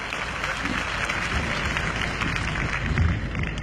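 An audience applauds a university student president, a dense, steady wash of clapping hands that continues throughout without a break.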